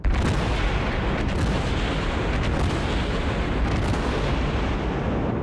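Battleship guns firing in World of Warships, heard as a dense, continuous rumble of heavy booms and blasts, loud and close, with several sharper reports standing out and no voices.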